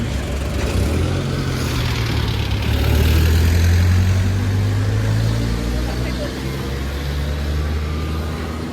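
Steady traffic rumble fills a street in Bacolod, Philippines, with low engine drones and a vehicle passing close by midway, continuous and fairly loud throughout.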